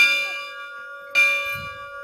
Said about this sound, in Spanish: Acaba de hacer sonar las campanas del cerro de la Virgen María Auxiliadora.